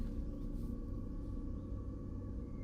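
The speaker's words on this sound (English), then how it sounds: "and I can hear cars very close by." Cars pass close to a campsite, a steady low rumble of traffic with a faint tonal hum, continuous and fairly quiet with no talk.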